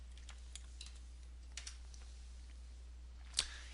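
Quick bursts of keystrokes on a computer keyboard, light close clicks in short irregular clusters over a quiet hum, ending in one sharper tap.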